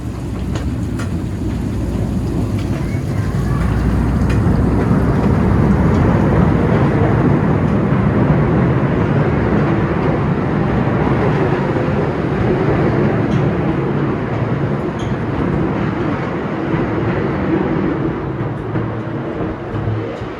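Irvine Park Railroad miniature train riding the tracks in Irvine Regional Park, Orange County: a steady, loud low rumble of wheels and cars rolling continuously throughout, with no talk.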